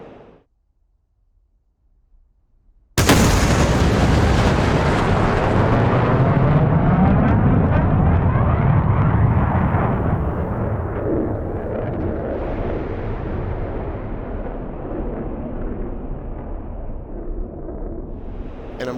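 A Fox 3 missile launch from an F-15 Eagle in DCS World: after near silence, a sudden loud roaring burst erupts and then sustains as a long, gradually fading rocket rush.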